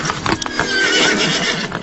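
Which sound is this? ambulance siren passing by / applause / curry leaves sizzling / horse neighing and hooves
horse neighing and hooves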